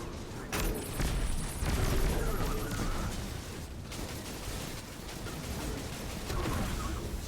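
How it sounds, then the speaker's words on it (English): Cursed Thrall explosions in Destiny 2 burst over ongoing gunfire and game combat effects, a dense, loud rumble with sharp pops throughout. "to get that Cursed Thrall explosion"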